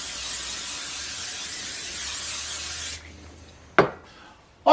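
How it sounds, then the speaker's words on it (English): Spray oil hisses in one steady burst for about three seconds over the breadcrumb topping of a vegetable casserole, close and fairly loud, followed by a short clatter and another brief knock. "I use a little more spray oil and spray the top of the breadcrumbs."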